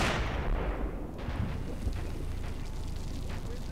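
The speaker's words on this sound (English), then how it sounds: "Mortars are just decimating us." Mortar fire in the Men of War Assault Squad 2 war game, heavy booming blasts and rumbling impacts layered into a dense, loud battlefield din with no clear pauses.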